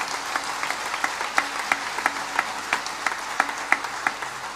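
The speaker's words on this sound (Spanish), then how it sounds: "Denle un aplauso al Señor," Congregation applauding during a Catholic homily, moderate and somewhat sparse clapping with distinct individual hand claps standing out in an uneven rhythm throughout.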